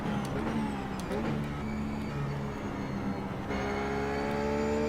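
A GT race car engine in iRacing, running a Blancpain round at Road America, drones steadily and loudly with clear harmonic tones. The pitch climbs and then shifts after a gear change, with no voices.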